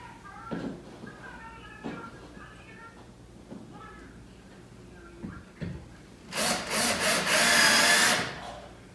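A drill drives 1 1/4 inch number 8 wood screws into wood for a budget garage gym build. Someone talks over faint handling noises, then a loud, steady whir runs for about two seconds near the end.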